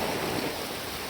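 Rain falls steadily during the Diwali festival, a dense, even hiss of close, continuous downpour with no voices.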